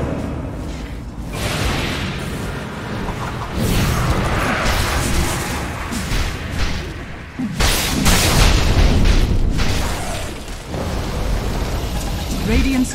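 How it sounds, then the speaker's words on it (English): Explosions and combat noise from a Dota 2 match, with a tower under attack: rumbling blasts and noisy impacts in a dense, continuous mix, with a commentator-like voice under the action. "Radiant's top tower is under attack."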